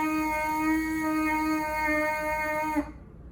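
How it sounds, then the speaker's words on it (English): A steady, buzzing tone from lips vibrating on a trumpet mouthpiece, held for about three seconds before cutting off abruptly. "see if you can do that free buzz, but on the mouthpiece"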